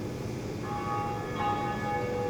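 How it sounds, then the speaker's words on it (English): Distant bell tolls ring out in Dark Souls, a bell rung by another player, sounding as a few faint sustained metallic tones over a steady low ambient rumble. "Whenever you hear the bell ringing in the background of your journey, that's someone else in a different game ringing the bell"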